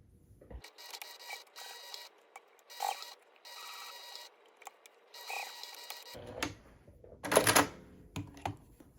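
A sewing machine top stitches a small tote bag pocket at about 3 mm stitch length, running in several short bursts of whirring with pauses between, close and moderately loud, ending with some handling clatter.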